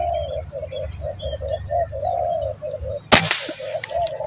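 A collared kanter bird calls in a rural field with repeated short, evenly spaced notes under a steady high insect-like whine, cut by a sharp rustling burst near the end.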